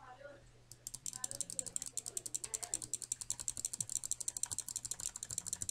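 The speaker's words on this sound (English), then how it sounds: "Intense clicking." Rapid, intense computer keyboard and mouse clicking during a Roblox Bee Swarm Simulator gaming session, a steady fast rhythm of sharp clicks close up that runs almost the whole time after a brief quiet start.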